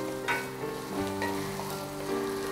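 Finely chopped onion, about a cup, softens in a pan for chicken sausage fried rice, giving a gentle, even sizzle with a few faint tonal sounds humming in the background.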